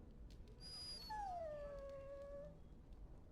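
A dog in the Dragon Age Origins game gives a long whimpering whine that sweeps high and then slides into a drawn-out falling cry, close and clear over quiet background.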